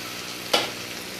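Onions frying with pigeon meat in a pan give a steady, even sizzle, with one brief scrape from a spoon stirring them midway.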